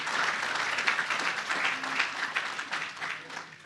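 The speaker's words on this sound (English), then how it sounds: "I think we need a round of applause for those in the room that had a cameo appearance" An audience at an engineering innovation summit applauds, a steady, dense wash of many hands clapping for several seconds with no one speaking.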